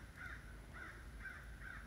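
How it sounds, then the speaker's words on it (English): A crow caws four times at an even pace in a backyard, distant and faint over a quiet background hiss. "Oh, and there's a crow in the backyard."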